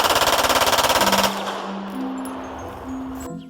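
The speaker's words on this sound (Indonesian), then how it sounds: "Tembak-tembakan pistol." A toy pistol fires a rapid, even machine-gun-style burst of electronic shots, loud and close, then stops and gives way to short beeping tones.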